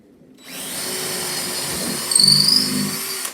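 After a brief quiet moment a power drill whirs up and runs steadily, its pitch rising and straining as it bites into wood near the end.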